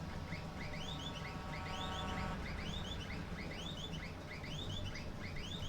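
Repeated little bird-like chirping bursts from an old tractor horn in Farming Simulator, evenly spaced warbling toots over a steady, low engine drone, fairly quiet and without talk.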